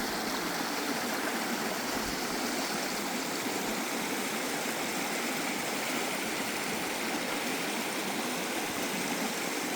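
Creek water flows beside a bridge in a steady, broad rush that stays close and even throughout, with no voices over it.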